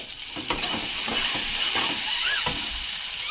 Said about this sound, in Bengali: তেলটা গরম হয়ে গেছে, এটার মধ্যে আমি একটু কালো জিরে দিয়ে দেবো ফোড়নে।